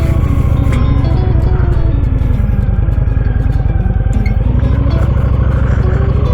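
A Honda Shadow 750 ACE motorcycle engine rumbling loudly and steadily up close, with deep rhythmic pulsing and slight shifts in pitch as it pulls.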